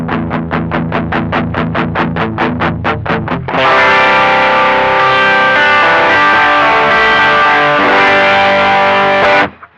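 An electric guitar runs through a BOSS SD-1 Super Overdrive pedal, first picking a quick run of repeated notes, then ringing out sustained, thick, mid-heavy distorted chords that hold loud until a sudden stop.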